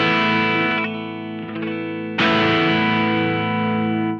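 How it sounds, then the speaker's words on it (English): A Fender Duosonic electric guitar with upgraded Tone Rider pickups, played on the neck pickup with no effects into a Boss Katana amp on its crunch setting, rings out loud, slightly gritty chords. Some strums sustain and decay, and a fresh strike lands near the middle. "I'm playing my Fender Duosonic with Tone Rider pickups, so pickup upgrade into a Boss Katana"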